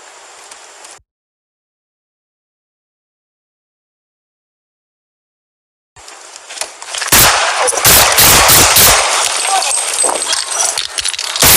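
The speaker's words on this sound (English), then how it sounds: "Officer needs help. Shots fired." Gunfire erupts during a police traffic stop at a vehicle: a loud, rapid burst of several close shots, then continued chaotic noise and shouting after a brief sound before a long silent gap.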